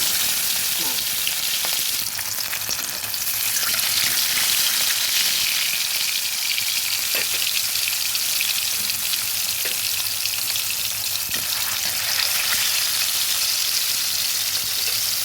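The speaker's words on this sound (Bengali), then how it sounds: "এবার ভালোভাবে মাছটা ভাজা হতে দেবো" Hilsa fish pieces frying in hot oil in a home kitchen, giving a steady, close sizzle with soft crackles that continues throughout without pause.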